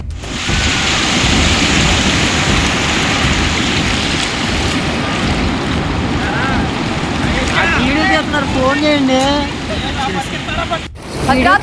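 Heavy rain pours down in a dense, steady hiss with deep thunder rumbling beneath it, in Bhadradri Kothagudem district. Voices come in toward the end.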